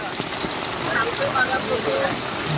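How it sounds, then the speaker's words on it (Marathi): Heavy rain hisses steadily and loudly, a dense continuous patter with no pauses. "पाऊस बघा किती आहे जोर जोरात"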